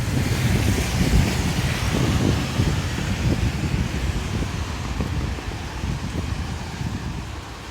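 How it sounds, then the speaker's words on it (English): Night wind on a street in Paramaribo, Suriname, buffets the microphone in loud, rumbling gusts that ease off slightly toward the end, with no voices. "Wind."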